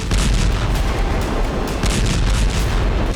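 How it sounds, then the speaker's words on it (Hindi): Rumbling blasts from a Ukrainian drone strike on a Russian weapons-supply warehouse near the front line in Donetsk, a dense, continuous roar of booms and crackle that stays loud for the whole stretch, with no voices. "एक के बाद एक 4 धमाके हुए"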